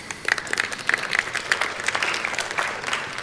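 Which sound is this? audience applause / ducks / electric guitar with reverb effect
audience applause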